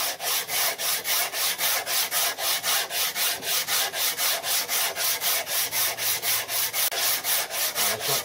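Mill scale and rust are scrubbed off steel stock by hand in a workshop, producing a brisk, regular back-and-forth rasping, about three strokes per second, close and steady throughout with no talking.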